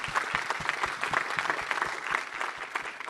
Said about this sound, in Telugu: first big round of applause for this